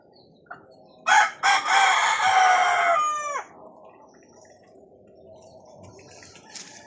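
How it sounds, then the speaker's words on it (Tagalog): A newly caught wild red junglefowl (labuyo) rooster gives one loud, close crow lasting about two seconds, with a short cluck before it and quiet background afterward. "Labuyong labuyo talaga."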